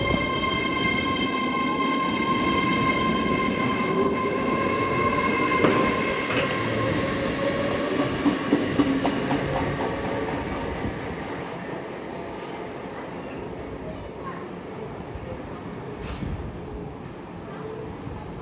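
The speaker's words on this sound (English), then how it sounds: "Avanti West Coast Class 805 Avero, going from Birmingham New Street bound for London Euston" An Avanti West Coast Class 805 passenger train runs through Milton Keynes Central on the West Coast Main Line, Birmingham New Street to London Euston, with a steady rumble of wheels and a sustained high motor whine throughout, close and continuous.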